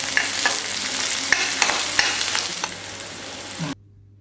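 Onions and curry leaves with mustard seeds frying in oil give a continuous sizzle with stirring scrapes and crackling pops, cutting off abruptly near the end.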